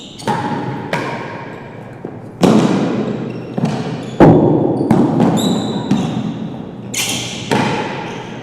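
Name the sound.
real tennis ball rolling around the back penthouse roof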